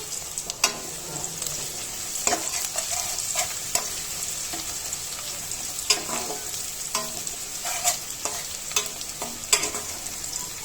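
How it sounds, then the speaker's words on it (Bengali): Onions fry in hot oil with bay leaves and whole spices for a beef curry, a constant bright sizzle broken by repeated sharp scrapes and clacks of a spoon stirring the pan, close and loud with no talking. "পেঁয়াজটা একটু ভাজা ভাজা করে নিব"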